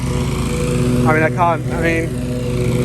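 A lawn mower drones steadily close by, its engine loud and continuous, while a person talks over it briefly in the middle.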